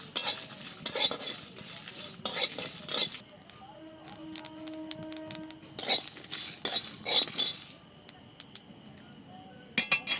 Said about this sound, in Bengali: এবার একটু নেড়ে চেড়ে নামিয়ে নেব